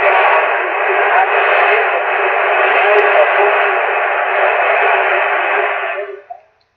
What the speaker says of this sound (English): I do hear Voice of America on 6195 right now.